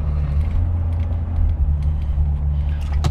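A 1966 Aston Martin DB6 coupe warms up while driving along an avenue, its engine a steady low hum heard from inside the car, with faint mechanical ticks and no talking.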